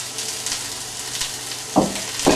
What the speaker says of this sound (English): you just have to mix them and let them fry